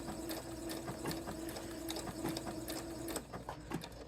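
A Brother sewing machine running stitch number 15 hums along at a steady mechanical rhythm with repeated needle clacks, close by, then stops near the end, with no talking.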